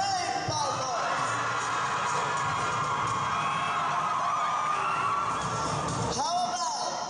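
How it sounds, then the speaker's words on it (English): A school team cheers and yells at a foundation day celebration, a loud crowd of young voices whooping and shouting together without pause. "Shall we have a cheer or a yell coming from Team RX Rain Falcons?"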